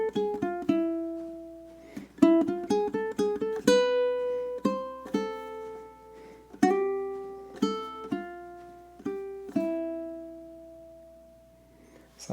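Ukulele picking an Eastern-sounding duet melody, a run of crisp plucked notes in an uneven rhythm with short pauses between phrases, played close and fairly quiet with no voices.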